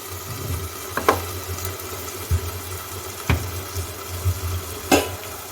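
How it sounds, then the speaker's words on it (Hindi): Tomatoes cook slowly in a covered pan over low heat, giving a steady soft hiss over a low hum, broken by a few light clicks and clinks. "अब इसे ढक लेंगे कि टमाटर पक जाए लो हीट पे।"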